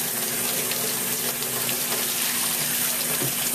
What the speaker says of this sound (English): Now you can leave the water running.